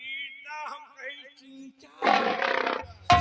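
After some drawn-out vocal sounds, a voice lets out a short, harsh roar imitating a lion, followed by a brief thump.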